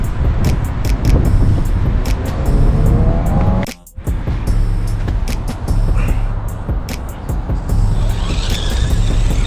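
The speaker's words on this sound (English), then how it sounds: "I'm driving only with the rear steer without any front steer." An FTX Mauler RC crawler driving with rear-wheel steering only, a steady whining electric motor and gear hum, close and loud, with a brief drop in sound partway through.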